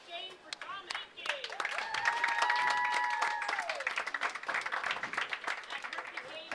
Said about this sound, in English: let's have one more round of applause for a perfect game for Tom Henke